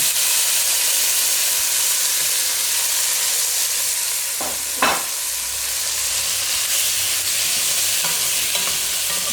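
Veal meat returned to a hot pan with caramelized onions and pork belly for a simmered veal stew, giving a steady broadband frying sizzle with a brief stirring scrape near the middle, close and continuous with no talk.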